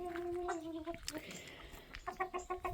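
Rooster and hens in a backyard chicken run, with a short clucking call near the start and more soft clucks toward the end against a quiet outdoor background.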